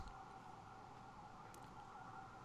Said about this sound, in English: I hear a few sirens going